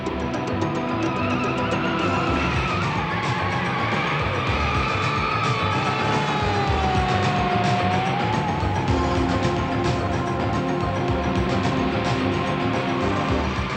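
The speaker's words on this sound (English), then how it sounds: "The famous car chase." Movie car chase scene with cars racing and tires skidding and squealing in long sliding whines, over a steady loud engine roar and busy soundtrack with no talking.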